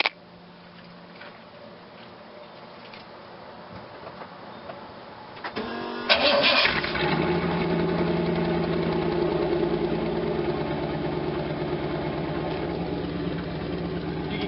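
A Z28 Camaro with its stock exhaust cranks and fires up about midway through. It settles into a steady, loud, rumbling idle after a quieter stretch of background noise.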